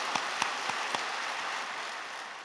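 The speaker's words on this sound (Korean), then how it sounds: "우리 장로들한테 박수 한번 보내줘야 돼요" A church congregation at a Wednesday service breaks into dense applause for its elders, a steady wash of clapping with a few sharper claps standing out early, no voices over it.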